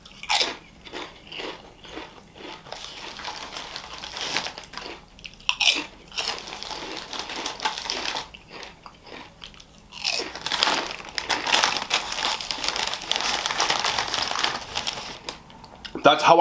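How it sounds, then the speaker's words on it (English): Loud, close crunching and chewing on ridged potato chips, with repeated crisp bites and jagged crackles coming in uneven bursts, nothing else heard. "It's got ridges, it's got good crunch"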